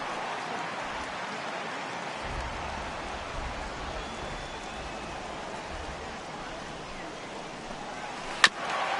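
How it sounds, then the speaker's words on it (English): Heavy rain falls on an open baseball stadium during a Cardinals-Cubs game, a steady diffuse hiss at moderate level with low rumbling underneath and one sharp click near the end. "that rain is really coming down right now"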